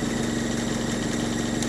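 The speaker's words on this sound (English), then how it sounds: "the same pitch, like the same bass, the same tone of the engine" A steady, loud idle from an RTP DE20159 bus on route 226, a deep engine hum with a constant rattling vibration of loose panels and bars, with no break and no voices.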